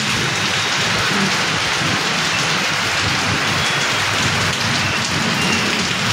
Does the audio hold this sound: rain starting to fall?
yes